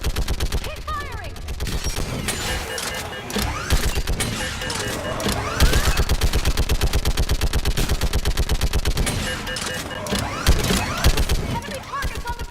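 Sustained rapid automatic gunfire from the Thessia battle in Mass Effect 3 Legendary Edition, dense rhythmic bursts continuing throughout, with shouted voices over the shooting and occasional louder impacts.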